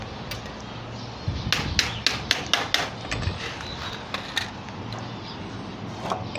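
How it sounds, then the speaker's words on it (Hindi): Metal strips being hammered onto a bird cage frame: a burst of sharp, fairly close taps in quick irregular succession, then a few scattered knocks over low room hum. "इन पतरियों को इस तरफ को मोड़ के दोबारा से ठोक देना है"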